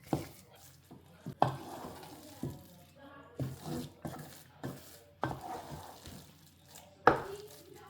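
Ukwa (breadfruit) being mixed in a pot: a series of separate scraping and knocking strokes of a spoon against the pot, each about a second apart, fairly close, with a faint cooking hiss in the background and no talk.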